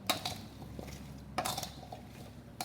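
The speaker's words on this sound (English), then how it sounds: "So now I just want to stir this around." Seasoned vegetables tossed with olive oil in a dish, giving light clinks and scrapes of a utensil against the dish, a few sharp taps over a soft, steady rustle, close and fairly quiet.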